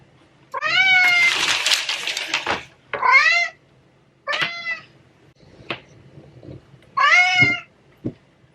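A cat meows loudly and repeatedly, four drawn-out cries with short pauses between them, close by, along with a few faint knocks.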